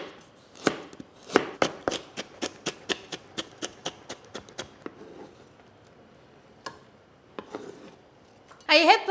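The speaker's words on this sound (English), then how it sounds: "So I'm going to cut into matchsticks. We need some red color carrot." A knife chops a red carrot into matchsticks on a cutting board, with about fifteen crisp, evenly paced cuts in quick succession, then a pause and a few scattered strokes, ending in a brief rattle.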